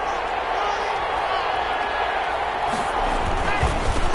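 A football stadium crowd in a video game roars steadily as a dense, continuous wall of cheering with no break.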